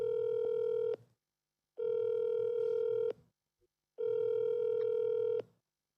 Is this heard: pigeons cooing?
no